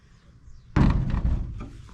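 A replacement door on a D100 pickup truck slams shut with one sharp, loud metallic thunk and brief rattle, close by after near silence.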